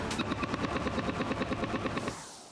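Rapid bursts of automatic gunfire in close combat as soldiers fire on approaching enemies from about a hundred metres, a fast rattling series of shots that stops abruptly, leaving fading echo.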